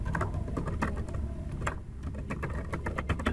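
Someone types on a computer keyboard, entering text for an HTML tutorial, with quick irregular key clicks close by over a low background hum.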